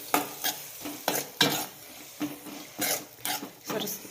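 Leftover rice with beetroot, carrot, cabbage and tomato is stirred in a hot pan: a series of close scraping strokes in an uneven rhythm, about eight bursts, over a light sizzle.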